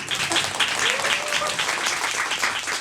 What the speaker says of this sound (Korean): 그러면 박수로 청해 듣겠습니다.